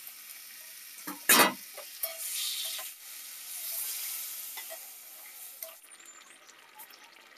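Fish is set into hot oil in a kitchen pan, with a sharp loud crackle on contact followed by a steady hiss of frying and a few light scrapes and clinks.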